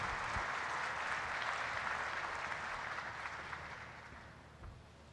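An audience at a shipyard ceremony applauds steadily to welcome a speaker to the microphone, a dense, even wash of clapping that fades slightly toward the end.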